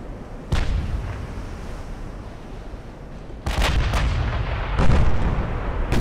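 Battleship guns fire lyddite shells in the naval game Ultimate Admiral: Dreadnoughts, three loud booming salvos spaced over a constant low battle rumble, with no talk.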